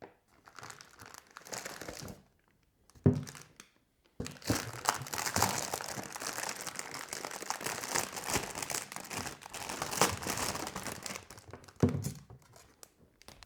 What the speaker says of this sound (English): let's go ahead and get it unboxed